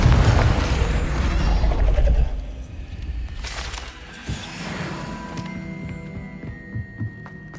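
Confringo fire spell blast in Hogwarts Legacy, a loud booming explosion with crackling debris that fades into a lower rumble, followed by a few faint clinks and small impacts.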